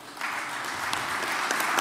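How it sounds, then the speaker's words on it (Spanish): Brief applause from a conference audience at a panel on the Paraná River navigation system, a short burst of scattered hand claps with a few sharper individual claps standing out. "Los despedimos con un fuerte aplauso."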